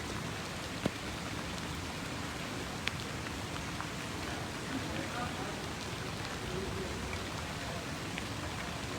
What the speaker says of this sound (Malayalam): ഇന്നലെ മുതൽ കനത്ത മഴയാണ് എറണാകുളം ജില്ലയിൽ പെയ്യുന്നത്